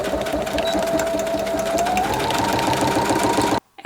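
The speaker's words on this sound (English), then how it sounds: "just a straight stitch all the way across." A sewing machine runs a steady straight stitch across a clear organizing bag for crochet and knitting projects, a loud continuous whir that holds for several seconds and then cuts off abruptly at the end.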